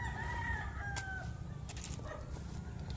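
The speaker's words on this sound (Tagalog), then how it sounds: "Mga mamahaling manok daw to." Expensive gamecocks tethered inside a makeshift garage crow and cluck, one rooster's drawn-out crow standing out against steady low background noise, fairly faint and distant with no talking.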